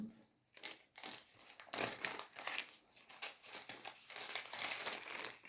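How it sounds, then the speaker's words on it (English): Close, crinkly rustling as a paper list is folded and stuffed into a plastic bag, in irregular bursts of crumpling. "I'm going to fold it up. I'm going to put it in my plastic bag."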